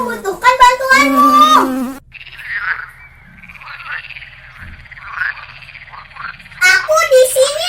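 A voice imitates a bee flying, a wavering nasal buzz held for several seconds, set between bursts of lively child speech.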